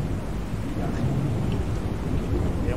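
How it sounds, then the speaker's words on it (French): Steady rain and low thunder rumbling in the horror video game Pacify, a dense continuous wash of rainfall with a deep rolling undertone that holds at an even level throughout. "Il pleut, c'est génial."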